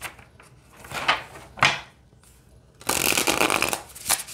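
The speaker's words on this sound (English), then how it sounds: "let me show you how it shuffles" Tarot cards are riffled and snapped together in short bursts, ending in a longer flurry of shuffling, close up and with no voices.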